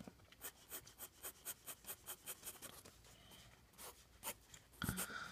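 Graphite 2H Staedtler Mars Lumograph pencil sliding across soft paper, a close, quiet series of rhythmic scratchy strokes, roughly a dozen quick scrapes followed by a few slower, heavier ones.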